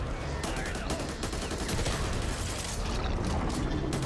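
Sustained rapid gunfire from the co-op zombie shooter Back 4 Blood, dense overlapping shots and bursts filling the whole stretch, loud and close, with faint voices underneath.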